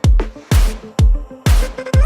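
Mixed kick and snare drums with the low end rolled off hit in a quick alternating pattern, about five punchy hits in two seconds. Each hit is loud and close with a short decay, and there are no voices.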